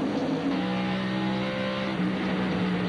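NASCAR Busch Series race cars at Bristol in 1998 make a steady, dense engine roar with overlapping tones as the pack circles the track, heard at a constant level with no commentary.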